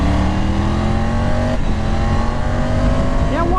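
Triumph Tiger GT Pro motorcycle accelerating hard through the gears with its quick shifter, a loud close engine roar rising in pitch with a brief dip at a shift, plus wind noise.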